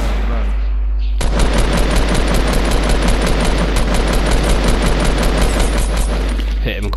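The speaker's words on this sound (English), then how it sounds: "There's another one shooting from 15 north" Sustained automatic gunfire from Fortnite battle royale, a dense rapid stream of shots that starts abruptly after a second and runs loud and close to the end, with a steady low rumble underneath.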